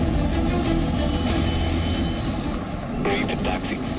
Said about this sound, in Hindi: भारत की सीमाओं पर तैनात प्रचंड हेलीकॉप्टर किसी भी लड़ाई का नतीजा तय कर सकता है